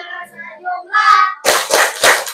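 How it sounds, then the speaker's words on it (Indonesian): After a voice, children clap their hands three times in an even, deliberate rhythm, each clap sharp and close. "Tepuknya hanya 3 kali ya. 1, 2, 3. Tepuk 5S."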